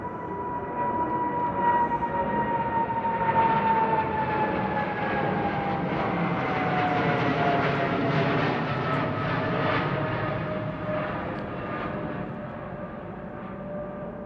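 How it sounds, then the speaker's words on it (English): A lightweight Boeing 777 climbing steeply out of London Heathrow on an eastbound departure, a sustained jet roar with a whining tone that slowly drops in pitch, fairly distant and steady before tapering off. "Very lightweight 777 going out."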